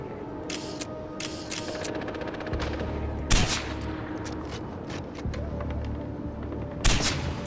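Bursts of rapid automatic gunfire from the Far Cry 4 shooter game, several volleys with sharp louder single shots between, over a low rumbling game background.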